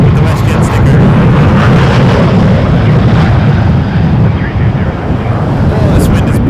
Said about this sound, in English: this wind is brutal